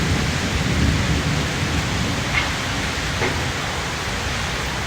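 Steady heavy rain pours down in a dense, unbroken hiss, loud and constant throughout with no voices.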